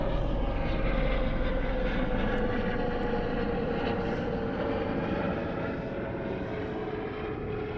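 A helicopter passes overhead as a steady, loud rotor and engine roar with a droning tone that fades slightly toward the end.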